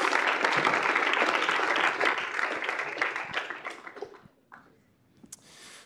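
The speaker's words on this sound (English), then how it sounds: "can we give our new interns a round of applause?" A room of students gives a round of applause for new interns at a K-State student involvement meeting, steady clapping that fades out after about four seconds, leaving a few scattered last claps.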